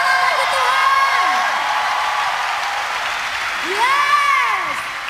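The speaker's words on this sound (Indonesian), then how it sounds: "Berikan sorak-sorai bagi Tuhan." A church congregation cheers and applauds in praise to God, a continuous wash of clapping with voices rising in whoops and shouts throughout.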